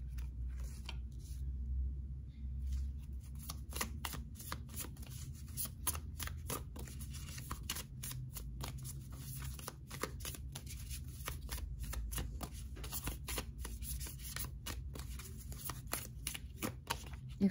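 A deck of cards is shuffled close up over and over, a long dense stream of crisp riffling flicks and snaps at a steady, even level with no talking.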